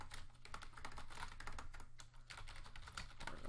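Rapid, steady typing on a computer keyboard, a dense run of close, crisp key clicks with brief pauses, over a low steady hum and no talking.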